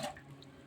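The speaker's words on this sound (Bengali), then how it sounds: "আমি জল দিয়ে দিলাম" Water splashes into a cooking pan of curry with kasuri methi, a brief close pour with a bright drip and trickle fading quickly into quiet kitchen background.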